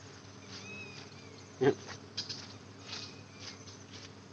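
Bees buzz faintly around someone gathering wild honey outdoors, their thin drone wavering steadily, with a couple of brief louder knocks and rustles partway through.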